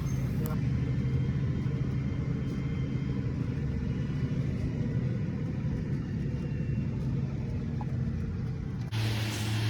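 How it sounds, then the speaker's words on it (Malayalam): A farm vehicle in Israel loading and cutting animal feed, its engine giving a steady low rumble throughout, close and continuous, ending in an abrupt shift in the noise. "ഈ ഒരു വണ്ടി ഉപയോഗിച്ചാണ് ഇവർ ഈ തീറ്റ കട്ട് ചെയ്യുന്നത്."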